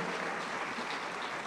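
Continuous audience applause at a gala honouring pasillo music artists, a dense, even wash of many hands clapping, moderately distant, with no voices on top.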